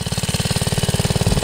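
A 1969 Taco minibike engine with a worn centrifugal clutch runs close and loud, its steady, rapid chugging pulses held at a high, strained pitch without any speech.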